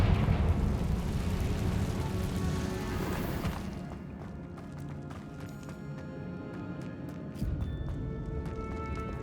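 Confringo fire spells burst repeatedly in the video game Hogwarts Legacy, giving loud, booming explosions over steady in-game action sounds, with a sharper blast near the end.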